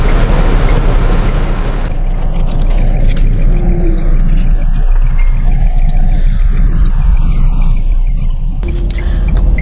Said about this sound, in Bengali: ভীষণ জোরে বৃষ্টি হচ্ছে।